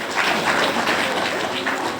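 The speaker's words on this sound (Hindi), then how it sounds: "ताली बजानी पड़ेगी।" An audience claps together at a Hindu religious discourse, the applause a dense, steady wash of hands that fills the whole stretch without a break.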